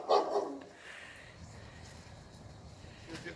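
A puppy gives a single short bark right at the start, close and fairly loud, followed by quieter background noise.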